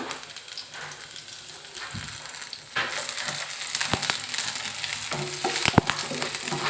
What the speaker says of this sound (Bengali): আমার ডাল রান্না হয়ে গেছে এখন বাগার দিয়ে দিব